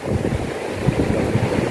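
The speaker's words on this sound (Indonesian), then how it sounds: "Inilah bibir pantai Pasir Putih." Steady wash of surf along the shore of Pasir Putih beach, a continuous rushing roar with soft surges, wind buffeting the microphone throughout, no voices.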